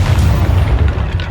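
A deep, booming blast from the Confringo fire spell in Hogwarts Legacy, one short, heavy low-end burst heard alone.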